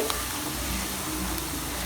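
Masala peanuts frying a few at a time in hot oil, a steady close sizzle and bubbling with faint stirring throughout, no voices.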